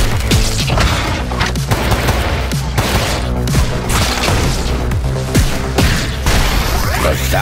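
Loud, relentless gunfire in the fast-paced shooter Mullet Mad Jack, rapid shots and booming impacts packed over a driving music track, with no let-up from start to finish.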